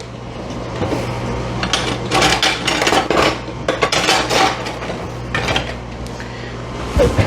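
A spatula scrapes around the sides of a mixing bowl of apple cider cake batter, giving a run of close, uneven scraping and clinking strokes with brief pauses, against steady low kitchen hum.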